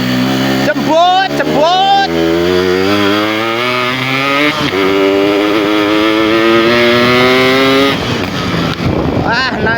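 A Yamaha RX motorcycle engine on a test ride revs loud and close, rising and falling in pitch through several throttle blips before holding a sustained roar that fades near the end.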